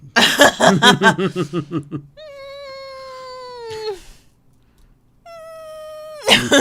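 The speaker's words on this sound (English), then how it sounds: "Oh, she's like a black cat." A black cat lets out long, drawn-out meows, two clear sustained cries separated by quiet, after a burst of chuckling laughter at the start.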